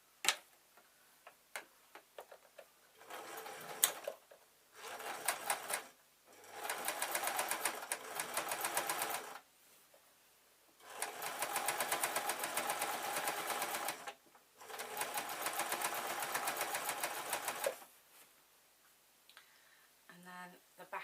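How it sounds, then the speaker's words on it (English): A sewing machine stitches along the back seam of a zebra-print fleece bootie in several long steady runs of rapid, even stitching, broken by short pauses with light clicks and handling noises; close and moderately loud. "So this is just the back of the boot here that I'm sewing along."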